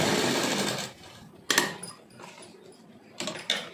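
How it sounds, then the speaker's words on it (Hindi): Sewing machine stitching elastic onto palazzo pants, a steady close whirring run for the first second, then a few short separate bursts of stitching with pauses between them. "हमने इलास्टिक के ऊपर ऐसे इलास्टिक रख कर सिलाई लगानी है"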